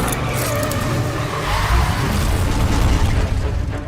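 A car roars through a chase on cobblestone streets in Rome, its engine rumbling loud and close under a constant rush of road and wind noise, with thumps and rattles.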